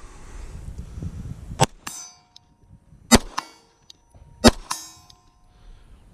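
A Glock 19 Gen 5 pistol fitted with a Steiner MPS sight fires at steel targets at distance, three loud sharp shots each followed by a ringing metallic clang from the hit plate, spaced about 1.5 seconds apart.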